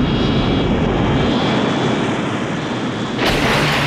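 Loud, steady roar of an airplane engine in flight from the action film Commando, a dense continuous drone that brightens slightly near the end, with no voices.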